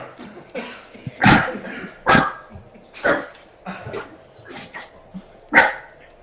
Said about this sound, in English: oh, dogs, sorry.